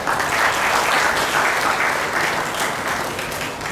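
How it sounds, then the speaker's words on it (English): An audience at a coaching institute's annual prize night breaks into loud, continuous applause, a thick wash of many hands clapping together throughout without any speech. "this is worthy of a big round of applause"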